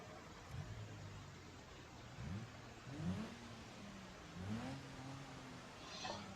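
An inline-six car engine in BeamNG.drive revs repeatedly, several rising and falling throttle blips with a low idle hum between them, faint and distant-sounding, with no talk over it.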